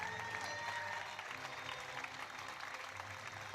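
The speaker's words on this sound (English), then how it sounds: "Getting a great round of applause in venue" Distant applause from a large stadium crowd at a blind football European Championships match rolls on steadily, a soft wash of clapping that never swells or drops.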